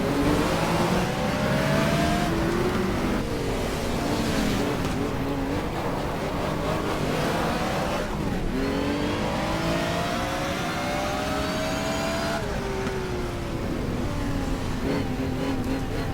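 Volvo touring race cars in GTR2 at Wellington, 1987 WTCC season, engines revving and shifting up and down through gears, several cars close together with rising and falling pitch sweeps, continuous and loud.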